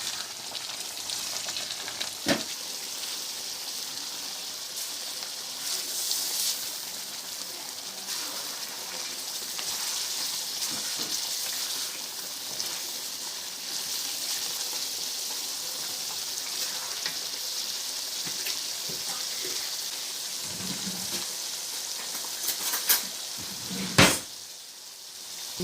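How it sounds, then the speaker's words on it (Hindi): Spice masala for mutton kadhai fries in a pan, a continuous close sizzle and crackle that carries steadily throughout, with occasional clinks of a spoon stirring. "थोड़ा सा भी भुनाई करेंगे बस।"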